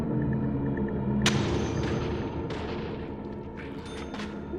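Booming gunshots in the game Deadly Premonition, one sharp report followed by a second shot a moment later, each with a decaying tail over a steady rumbling background.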